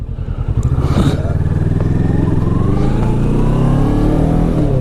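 A 2016 Kawasaki Ninja 650 motorcycle rides along with a steady, loud engine drone and a slight rev change near the start, heard close with rushing wind noise.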